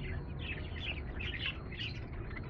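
Budgies in a colony cage chatter in soft, overlapping chirps and twitters over a steady low background rumble, sounding fairly faint and continuous.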